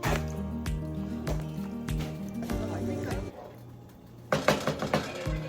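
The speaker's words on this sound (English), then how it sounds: "So let's stir our Zobo." Hibiscus Zobo drink stirred in a pot, with a few quick liquid splashes and sloshes near the end, close and fairly loud, after several seconds of background music.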